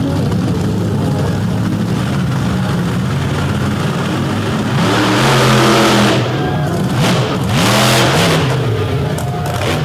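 Bullnose Ford race truck launching off a drag strip starting line, engine revving hard with a sharp rising roar mid-clip and rapid gear-like pitch sweeps, loud and close over a rumbling background.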